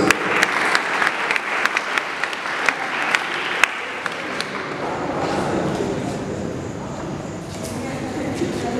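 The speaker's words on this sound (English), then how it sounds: "He deserves a bigger round of applause." Hall applause at a school Model UN closing ceremony for a committee delegate, loud clapping with sharp individual claps at first, then blending into crowd noise and chatter.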